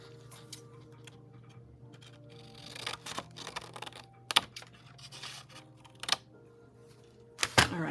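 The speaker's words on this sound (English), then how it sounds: "I'm just going to trim this with the scissors" Scattered crisp snips and clicks of scissors cutting paper, close by, over a low steady hum.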